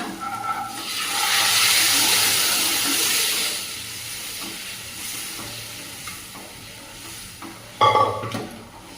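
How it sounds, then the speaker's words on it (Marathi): Tempering for moong dal varan sizzles loudly as hot oil and spices hit, a close hissing burst that gradually settles, followed by a sharp second sizzle near the end. "आता मस्तपैकी आपण तडका देऊया वरणाला"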